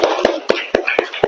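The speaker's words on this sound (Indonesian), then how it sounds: "Tepuk tangan." A group claps hands together in unison, six sharp, evenly spaced claps in a quick steady rhythm, loud and close.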